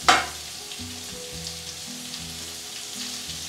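Onions sizzle in a pan of hot oil and pork chop drippings, a soft, even frying hiss that opens with a brief sharp burst, while a low hum runs beneath it throughout.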